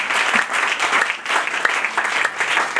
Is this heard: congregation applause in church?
yes